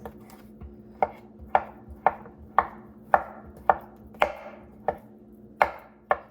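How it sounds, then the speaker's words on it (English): A knife chops through potatoes on a cutting board in a steady series of about eleven sharp, close knocks, roughly two per second, with no one talking. "I'm just gonna keep cutting up my potatoes."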